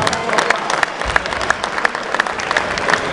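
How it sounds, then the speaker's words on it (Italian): An audience at an Olympic boxing event, Italy versus Cuba, keeps up steady applause with a few sharper individual claps standing out in the crowd noise. "Un grande applauso ancora"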